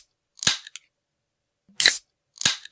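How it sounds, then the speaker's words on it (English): A soft drink can being opened, with a few sharp, close hissing snaps and pops set apart by silence; there is no talk. "If you guessed a can of soft drink being opened up"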